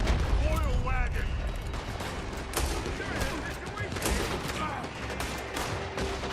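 Gunfire rattles in a Red Dead Redemption 2 gang shootout, a dense, continuous fusillade of overlapping shots and booms over a loud, busy game soundscape.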